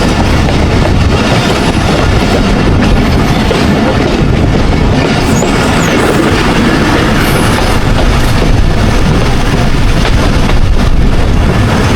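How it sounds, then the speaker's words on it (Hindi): Thal Express passenger train arriving at a junction in Pakistan, a loud continuous rumble of railcars with rhythmic clickety-clack of wheels over rail joints and occasional metallic squeals, heard close up throughout. "जंक्शन पहुंच रही है जी 130 डाउन खाल एक्सप्रेस"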